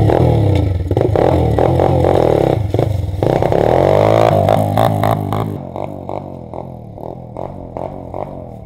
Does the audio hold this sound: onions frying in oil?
no